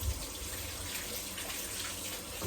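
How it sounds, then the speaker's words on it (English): Tap water runs steadily as hands are washed at a kitchen sink while a cast iron pot roast is prepared, a continuous close hiss with no voices. "Let me wash my hands."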